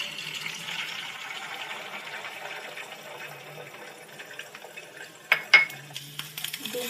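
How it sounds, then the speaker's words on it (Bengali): Two eggs seasoned with salt and ground pepper fry slowly in a pan on a gas stove. A soft, steady sizzle runs throughout, with a few sharp clinks of utensils near the end. "ডিম দুটোকে এভাবে ধীরে ধীরে করে ভেজে নিতে হবে"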